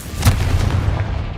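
A Confringo blasting spell bursts in Hogwarts Legacy with a loud booming explosion, a sharp hit followed by a broad rumbling decay lasting about a second, with no talking.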